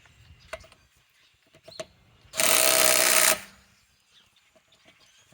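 A RIDGID subcompact right-angle impact wrench on a 3 amp Octane battery, set to maximum power while tightening, gives one loud, harsh burst of about a second, set between quiet handling noises.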